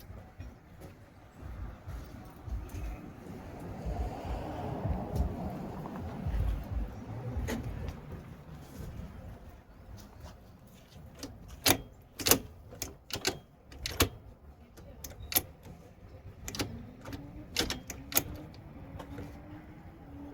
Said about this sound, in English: I'm going to shift through the gears and just see how it feels